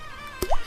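A single cartoonish drip of honey from a beehive lands as a quick, close plop near the end of a brief, quiet moment, animation style.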